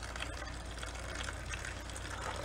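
Stale gasoline and water with debris drain out of the fuel tank of a 1990 bass boat in a steady, close rushing pour of liquid, continuous and unbroken with no talk.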